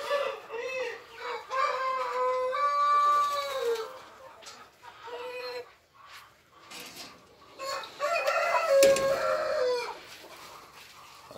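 A hen clucks among her chicks and other chickens at a Cemani poultry farm, with varied close clucks and calls, some rising cries and a crowing rooster, the calls overlapping continuously.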